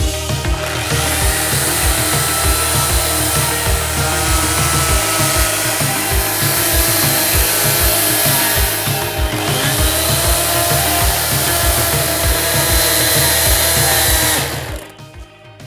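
A loud power saw whines steadily through a tree trunk for about fourteen seconds, its motor droning close by before it cuts off abruptly.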